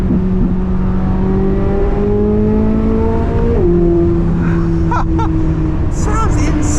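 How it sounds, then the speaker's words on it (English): Chevrolet C8 Corvette Z06 engine revving through its RPM range, a loud steady tone climbing in pitch, dipping at a gear change, then pulling up again. "The way it feels climbing up the RPM is just surreal."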